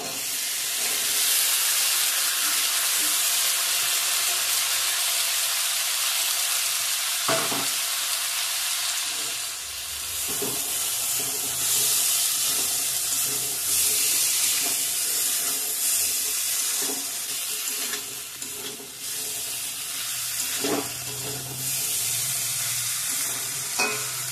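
Ghugni chickpeas with potatoes and spices sizzle steadily in a pan, with a constant close frying hiss broken by occasional scraping and knocking as they are stirred; no one speaks.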